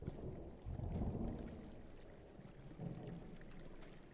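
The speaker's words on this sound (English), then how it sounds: "Hey, I heard some thunder." Thunder rumbles through a storm in the video game Firewatch, a low rolling boom that swells early and then lingers under steady rain-like hiss, with a second softer rumble later; no talking.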